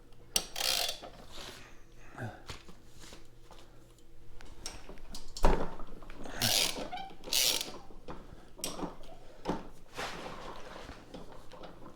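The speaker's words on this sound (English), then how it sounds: "take our 13/16 spark plug socket, and we're just going to break it free." 13/16 spark plug socket and ratchet breaking loose the spark plug on a Honda HRR series lawnmower, with scattered clicks, ratcheting ticks and metallic knocks of close handling.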